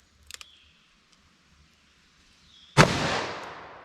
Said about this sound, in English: let me hit that with our 44 Magnum now